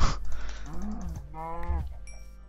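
A cow in the video game Minecraft gives a single drawn-out moo, close and clear, with a faint chime lingering after it.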